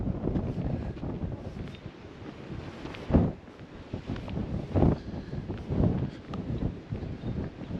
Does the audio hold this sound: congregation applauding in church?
no